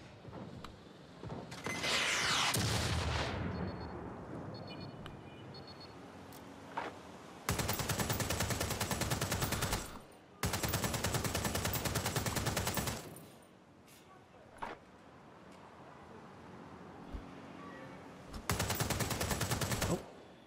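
Gunfire from Watch Dogs Legion comes in several long, loud sustained bursts separated by quieter gaps, with an explosive blast early on and scattered single shots between volleys.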